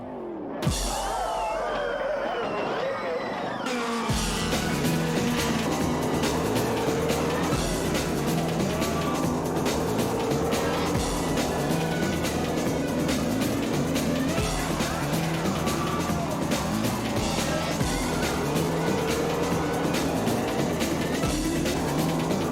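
Open-wheel race cars roar around a quarter-mile oval, a dense sustained engine drone with rising and falling pitch as cars pass, loud and continuous after a brief quieter opening.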